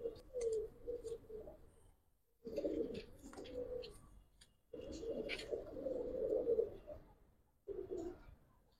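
Two pigeons, a Giribaz pair with a large-headed male and a hen, coo in low rolling bursts, four phrases separated by short pauses, close and clear with no talk.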